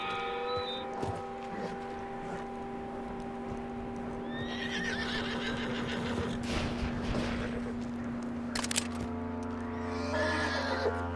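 A horse in the video game Red Dead Redemption whinnies and snorts repeatedly among hoof clip-clops and soft background game sounds, moderately near over several seconds.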